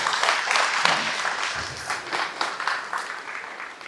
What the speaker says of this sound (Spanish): Unos aplausos